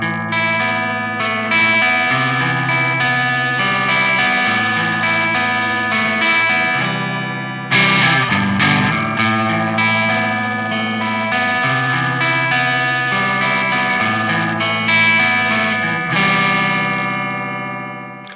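Electric guitar played through Behringer phaser and overdrive pedals gives a loud, sustained distorted tone with a sweeping, swirling phase motion, chords ringing continuously with a brief shift partway through and no talking.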